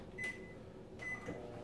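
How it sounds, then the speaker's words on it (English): Microwave oven heating bloomed gelatin in short bursts: two brief electronic keypad beeps about a second apart over a faint, low hum, quiet and close, no talk. "we're gonna microwave it in short bursts"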